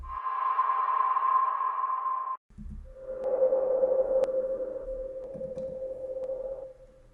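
A single snare drum sample pitched down to C so it rings less: a sustained, tonal electronic hit, then a short gap and a lower, softer, duller version, heard alone and close.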